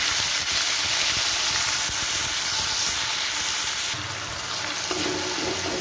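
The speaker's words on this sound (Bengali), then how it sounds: "এবার আদা জিরা পেস্ট এর সাথে লঙ্কা যেটা ছিল সেটা দিয়ে দিলাম তেলের মধ্যে।" Ginger-cumin paste and chili sizzle in hot oil, a continuous close hiss with faint scraping that shifts slightly near the end, no talking.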